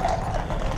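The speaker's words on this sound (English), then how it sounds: "Check out all these horses here." Police horses' hooves clip-clopping on pavement amid a large match-day crowd operation, a brief burst of hoof steps under general street noise.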